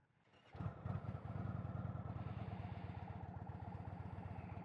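Indian Chieftain Dark Horse 116 motorcycle, nearly new, fires up and settles into a deep, loping idle with a steady throbbing pulse, close and fairly loud with no talk.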